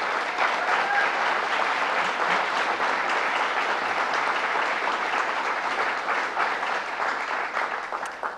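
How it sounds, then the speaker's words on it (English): A large crowd applauds steadily and loudly for several seconds, the clapping thinning slightly toward the end. "Let's give them a round of applause."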